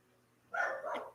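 A single brief dog bark, fairly faint and slightly distant, rings out indoors in a house with several dogs.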